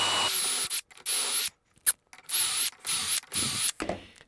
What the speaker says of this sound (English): Now I'm going to drill holes in every place.